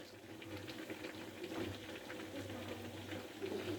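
Beans simmer and bubble in a pot on the stove, a faint, continuous hissing boil with soft popping, and no talk.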